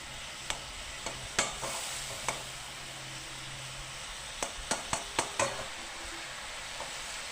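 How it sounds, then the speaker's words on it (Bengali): Tiny topse fish with a spice mix stir-fried in a pan, a steady hissing sizzle under occasional sharp clicks of a spatula against the metal, close and even. "এবার খুব ভালো করে কষিয়ে নেব।"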